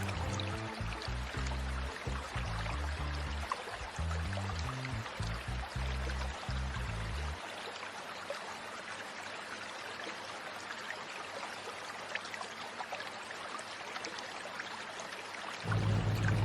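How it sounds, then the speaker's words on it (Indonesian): Water trickles steadily at a mountain lake on Java's highest mountain, a soft continuous gurgle and patter with a low throbbing sound over the first half that then falls away. "suara alam, dan gemericik air yang menenangkan"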